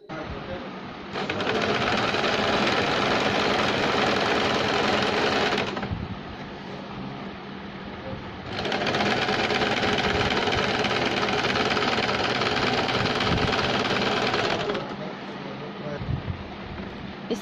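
A sewing machine stitches fabric for a baby capri in two long, loud whirring runs with a short softer gap between them, starting and stopping cleanly while a voice speaks over the work.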